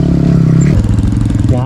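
A motorcycle engine on a rough rural road in Zamboanga del Norte, Philippines, throbs loud and close under rattling and bumps, with a person speaking over it.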